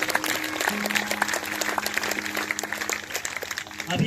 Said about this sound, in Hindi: अगर आए तो जोरदार तालियां बजा दो